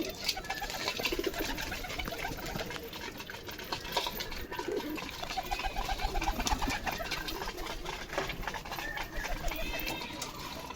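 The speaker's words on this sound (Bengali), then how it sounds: "এই যে পায়রাটা আমার বাড়ির টপ পায়রা" Pigeons coo softly amid a busy, steady background while a flock feeds on grain at a home loft, the low calls repeating under ongoing ambient noise with a voice occasionally talking.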